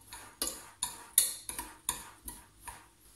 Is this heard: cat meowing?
no